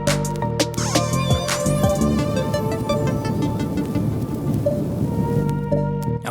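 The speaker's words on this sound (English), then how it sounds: "Now up here we have some mechanical interference we can add." The iZotope Vinyl plugin's mechanical interference effect adds a constant bed of dense crackle and rumbling noise beneath sustained tonal music. The sound is loud and steady throughout, with no talking.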